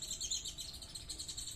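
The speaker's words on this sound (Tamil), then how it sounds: "அவங்க வந்து பறக்க கற்றுக் கொடுக்கறதுக்காக கூட்டுக்குள்ளேருந்து அந்த குட்டிகளை வந்து வெளியில் கூப்பிடுறாங்க" A mother sparrow calling her chicks out of the nest, a string of rapid high chirps and tweets at a steady pace, faint and somewhat distant, heard without speech.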